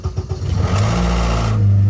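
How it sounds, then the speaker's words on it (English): A Honda Accord 8th-generation engine cold-starts with a close, loud cranking rattle. It swells into a steady, rough running drone within about two seconds. "when you go to cold start your car, you're going to get this nasty rattle for a couple seconds"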